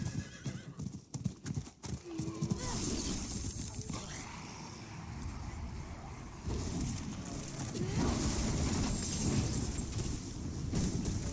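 Hooves clip-clop steadily at a gallop in Diablo IV, with a horse whinnying over a busy game soundscape; the hoofbeats keep a continuous, fairly loud rhythm.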